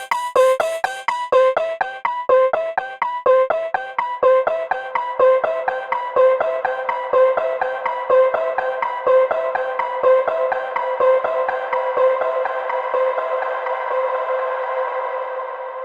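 Arpeggiated vocal one-shot sample drenched in reverb and filtering, a rapid, steady cascade of repeating bright notes that gradually softens and smears into a washy, echoing tail, loud and without any voices over it.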